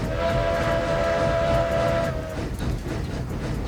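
A steam locomotive, the Mastodon engine Tony in the RailRoads Online video game, sounds a sustained whistle for about two seconds over a steady rolling rumble that continues alone afterward.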